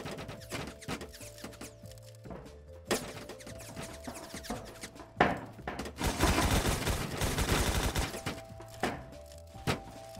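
Video game gunfire in Roblox Phantom Forces: loud rapid bursts of shots and a sustained automatic volley, with scattered single cracks and thuds and no talking.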